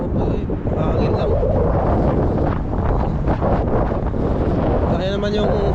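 Steady, loud wind rushing and buffeting against the microphone throughout on a cold day in Canada, with a roaring low rumble and no clear talk.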